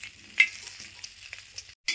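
Tomatoes fry in oil in a pan with a soft, close sizzle and a few light crackles, cutting off abruptly just before the end.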